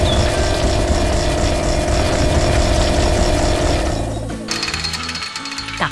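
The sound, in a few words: drill machine digging into the ground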